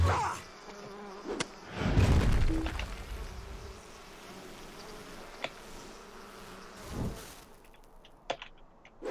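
In the online game Lord of the Rings Online, summoned bees give intermittent buzzing among sharp combat hits and thuds, with louder swells near the start and middle.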